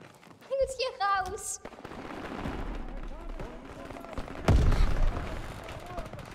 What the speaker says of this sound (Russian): Там стрельба.